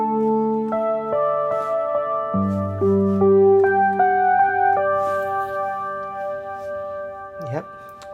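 Roland JU-XA synth patch built on the Juno 60 engine, playing sustained chordal tones that step through a short phrase, moderately loud, ending with a brief swooping sound near the end.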